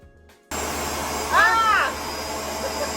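A carpet cleaner switches on abruptly and runs with a steady whining motor drone, while a brief rising-and-falling squeal from the attachments being fitted cuts through the middle.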